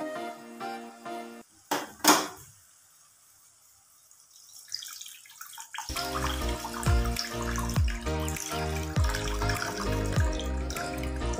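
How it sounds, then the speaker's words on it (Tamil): Tamarind water pours into a pot of thuthuvalai-leaf rasam. After a quiet stretch with a brief knock, a steady close splashing pour begins and runs to the end. "நம்ம கரைச்சி வச்சுருந்த புளி தண்ணியை ஊற்றிக்கலாம்."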